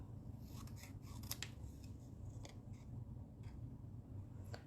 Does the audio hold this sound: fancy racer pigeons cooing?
no